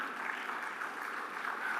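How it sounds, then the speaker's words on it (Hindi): Quiet, steady clapping from an audience at a leadership event, soft and fairly distant with an even texture throughout. "तो एक बार आप सब लोग अपने लिए तालियां बजाएं।"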